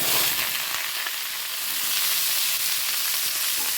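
Mixed vegetables, including papaya, potato and peas, sizzle steadily in hot oil with panch phoron spices in a kadai, a loud, close, continuous hiss with no talking.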